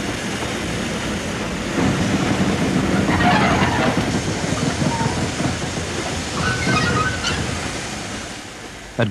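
The steam locomotive Mallard runs loud and close on the Settle and Carlisle line, a steady rumbling rush with rhythmic clatter and hissing bursts, no talking.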